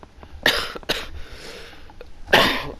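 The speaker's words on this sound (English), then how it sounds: "Why am I only coughing when I'm recording?" Three harsh coughs close to the microphone, two in quick succession and a third after a brief pause.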